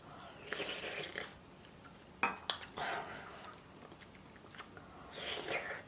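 Someone eats cream mentaiko pasta alone at home: quiet chewing and slurping in bursts, with a couple of sharp clinks of cutlery against a dish, close and faint.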